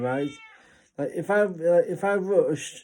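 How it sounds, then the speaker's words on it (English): A pet cat meows repeatedly indoors, several drawn-out, tonal meows following one after another, loud and close, while a person speaks over and between them. "That's my cat in the background"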